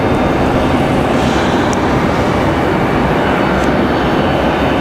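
An Icelandair jet at Raleigh-Durham International Airport makes a loud, dense engine roar that stays constant and close throughout, with no voices.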